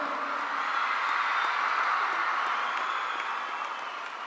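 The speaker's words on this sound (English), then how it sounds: "A big round of applause, ladies and gentlemen." An audience at a Ministry of Culture spirituality festival event in Kanha Shanti Vanam applauds to welcome the President, a dense, steady roar of many hands clapping that fills the hall evenly from start to finish.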